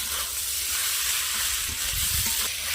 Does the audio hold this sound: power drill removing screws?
no